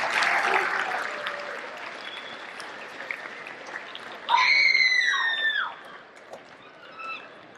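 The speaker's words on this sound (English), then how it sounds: "please join me in a loud round of applause for your police chief" Loud crowd applause and cheering for a police chief at a community salute event, a burst of clapping with whoops that swells midway and then fades.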